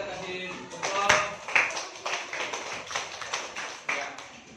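A class of students at a school gathering gives a short round of clapping, sharp close-up hand claps in an uneven patter with a voice speaking over them.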